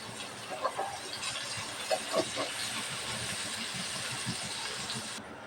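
Onions sizzling in hot oil with green chilies, cinnamon, cloves, cardamom and bay leaves, a steady close hiss with faint crackles throughout.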